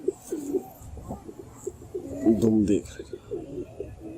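A pigeon gives several soft, close coos in short repeated phrases, with someone talking quietly over them.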